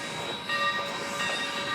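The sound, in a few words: train running at railroad museum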